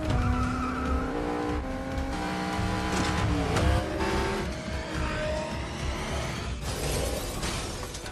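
Film scene of cars ramming each other head-on in a tunnel, with one car's front end modified: tires screeching, engines revving and crunching impacts, all layered over a dramatic music score.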